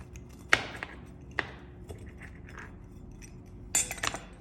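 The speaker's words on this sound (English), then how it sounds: "I'm gonna cut this one into an actual pizza slice" A knife cuts an upside-down stuffed pizza into a slice, giving a few sharp clicks and scrapes against the board with quiet pauses between them, close and fairly faint.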